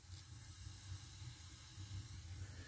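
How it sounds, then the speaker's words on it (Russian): A wood-burning stove hissing steadily with its ash-pit draft door open, burning a mix of dry and wet fuel; a faint, continuous airy hiss with a low rumbling draw underneath, no talk. "Вот поддувало открыто, оно хорошо тянет, слышите, шипит."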